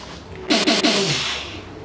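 A woman sneezing in a home, a short burst of several quick explosive sneezes in a row, close and fairly loud, then fading without talk.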